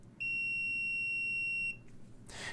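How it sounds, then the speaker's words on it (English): A Hioki CM4375-50 industrial clamp meter gives one steady, loud electronic beep lasting about a second and a half on a shorted diode test, then cuts off cleanly. "If your diode has voltage drop under 150 mV, then it recognizes a short and beeps."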